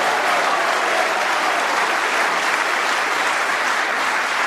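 Snooker crowd applauding a potted ball at a professional final, with sustained dense clapping from a large audience, loud and continuous throughout.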